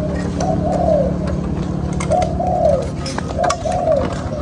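A Malaysian spotted dove, a young imported bird, coos in three evenly spaced soft phrases, close and fairly loud over a low steady background hum.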